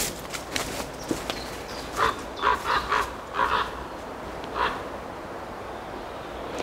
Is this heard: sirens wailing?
no